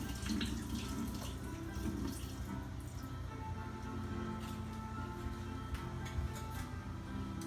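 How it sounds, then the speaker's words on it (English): Water from canned green beans pours through a strainer into a kitchen sink, with a steady splashing trickle for several seconds and no talking. "If you're using canned, you wanna strain out the water."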